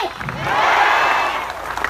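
A crowd at an outdoor rally bursts into applause, a short, swelling patter of clapping that rises and then fades, with a voice faintly underneath.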